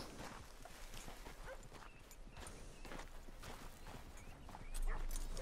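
Horse hooves clip-clop across the ground in Red Dead Redemption 2, a soft, steady run of hoof beats at moderate distance with a swell of low noise near the end, no talk heard.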